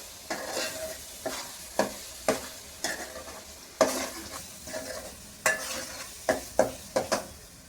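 Chopped onions sizzle in hot oil for a Godavari-style fish curry while a ladle scrapes and stirs them in repeated sharp strokes about once or twice a second, close and crackling.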